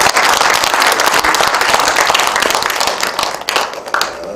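Applause from an audience at a regional history and culture academic conference in a library hall, dense sustained clapping close and loud throughout, thinning slightly near the end.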